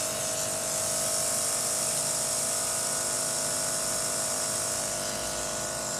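A Temptu airbrush makeup compressor running as a steady, close, high-pitched electric buzz with a constant whine, unbroken for several seconds and with no talking over it.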